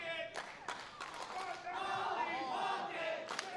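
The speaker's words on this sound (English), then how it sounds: "The crowd here chanting Polly Pocket" A wrestling crowd at a UCW gauntlet match chants Polly Pocket, a rhythmic mass of voices rising and falling with sharp claps and shouts, loud and near.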